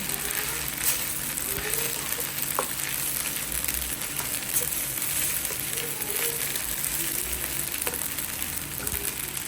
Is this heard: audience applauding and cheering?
no